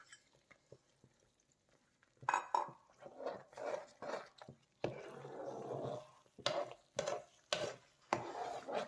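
Sweet potato halwa with ghee, cardamom and dry fruits is stirred in a pan, with quiet scraping at first, then repeated loud rubbing and scraping strokes of a spoon against the pan, close by.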